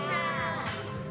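A cat on a street in Samui, Thailand gives a single drawn-out meow lasting about a second, fairly close, against steady outdoor background noise.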